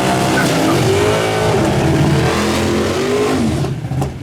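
Ford Mustang race cars on a drag-strip-style track roar loudly and steadily, engines revving hard with a brief tire squeal. The sound stays close and dense, then fades slightly near the end.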